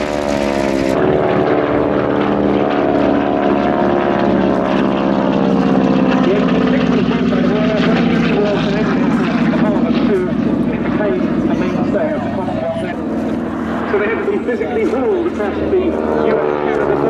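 A North American Harvard propeller trainer flies at an airshow, its engine drone droning steadily and loudly throughout with shifting pitch as it passes, while a commentator talks over it.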